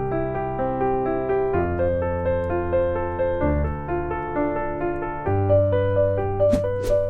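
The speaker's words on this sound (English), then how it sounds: "the first of these is a pattern called the Alberti bass" Piano plays an Alberti bass broken-chord pattern through a 1-4-2-5 chord sequence, with steady repeating notes that shift with each chord change, close and clear, without talking.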